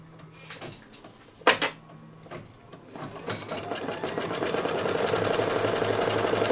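An embroidery machine stitching an applique starts after a few clicks and handling knocks, then settles into a steady, rapid mechanical whirring and tapping that holds close and constant.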